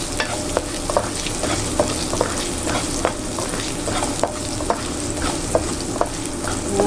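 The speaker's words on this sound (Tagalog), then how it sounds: "Ayan, mainit na yung mantika. Lagyan natin yung sibuyas." Onions fry in hot oil for pancit bihon, a dense steady sizzle broken by regular sharp scrapes and clicks of stirring. Close and loud, with no voices.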